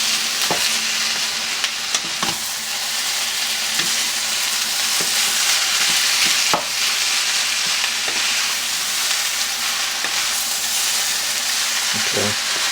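Ground beef and potatoes with onion and jalapeno stirred in a hot pan, a loud continuous sizzle and hiss broken by occasional sharp scrapes and clinks of the spoon, close and steady throughout.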